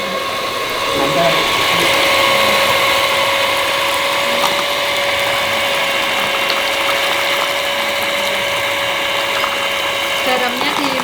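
An electric mixer beats dough with salt for dadar gulung, a traditional Indonesian rolled snack: a steady, whining motor hum runs continuously and fairly loud while people talk nearby.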